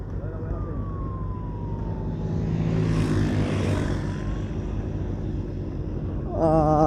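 An ambulance siren sweeps past during a cross country race, its wailing tone rising and falling over steady road and engine noise, loudest mid-pass before fading.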